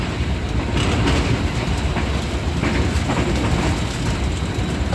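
A Green Line passenger train from Rawalpindi to Lahore passing Gangrela station rumbles steadily with rhythmic wheel clatter, heard loud and continuous from inside the carriage, without talk.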